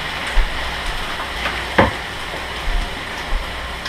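Stew beef plopped into a hot pan, a soft sizzle with a few wet thuds and spatters, one stronger splat near the middle, close and without talk.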